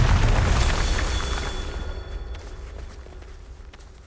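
A Bombarda blasting spell in a Harry Potter video game goes off in a loud booming explosion that rumbles and slowly fades over several seconds.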